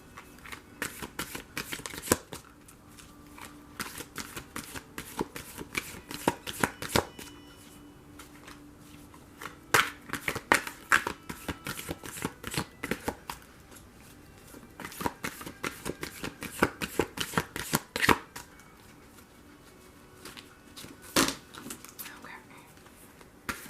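Tarot cards being shuffled by hand, a long series of crisp riffling and flicking bursts in irregular clusters, close and fairly soft, with quiet speech now and then.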